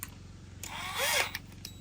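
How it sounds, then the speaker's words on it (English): A brief whir of a power drill fitted with an extension spinning up and bogging down as it drives a screw into a grill attachment on a Wolfe Ridge fire ring, short and fairly close. "So I'm going to put this extension on my drill"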